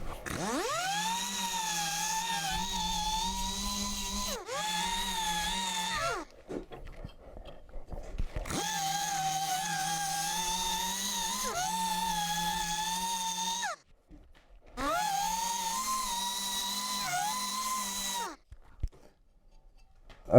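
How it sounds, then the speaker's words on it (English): An electric grinder works the blade edges of a forged marking knife, a close, loud, steady whine that holds for several seconds at a time, broken by three short pauses as the tool lifts off and the pitch sags and recovers. "I'm just going to finish up the initial grind on the blade edges"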